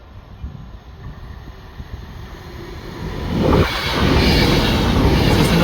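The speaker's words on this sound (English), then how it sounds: "Looks to be like another Avanti West Coast. This time coming at a speed." An Avanti West Coast Class 390 train approaching a level crossing at speed, a low rumble that builds into a loud, broad rushing roar as it passes close by, with no talking.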